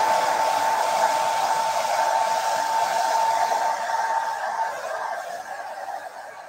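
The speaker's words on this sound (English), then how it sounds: "Just with a hairdryer, give that a blast." Hairdryer blowing on a woodcarving, a steady close whooshing hum with a faint tonal whine that gradually fades toward the end, with no voices.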